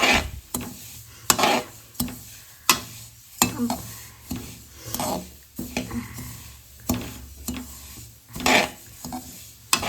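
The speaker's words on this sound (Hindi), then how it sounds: "तिल मेरे भुन रहे हैं अभी क्योंकि मैंने गैस कर दी थी काफ़ी मंदी" Sesame seeds being dry-roasted in a pan over a low gas flame for til laddoos, stirred with repeated scraping and rustling strokes that come close and loud in an irregular rhythm, with a soft sizzle underneath.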